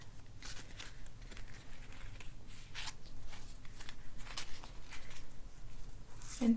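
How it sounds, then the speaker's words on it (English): Tarot cards with metallic rose-gold edges are shuffled gently and close up, giving quiet, soft bursts of riffling and sliding paper in an ASMR setting. "I'm going to try to gently shuffle the cards."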